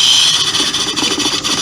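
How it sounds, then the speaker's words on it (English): A car engine, run with its fuel pump relay pulled to bleed off fuel pressure, idles steadily with a loud, high-pitched squeal over the engine hum, running alone without talk. "we'll cut the car on and let it run until it dies out to relieve the pressure"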